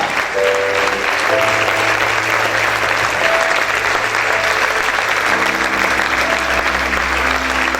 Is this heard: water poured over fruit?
no